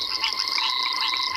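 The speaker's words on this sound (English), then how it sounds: "And there's that wham, wham, wham again of the broad-banded grass frog." Broad-banded grass frogs call at dusk on a South African safari reserve, a continuous chorus of pulsing, ringing notes with no voices.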